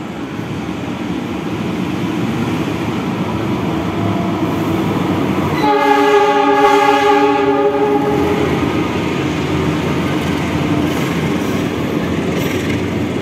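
An Argo Parahyangan passenger train rolls past Manggarai station with a continuous rumble of wheels on rails, and a loud multi-tone horn blasts for a few seconds midway.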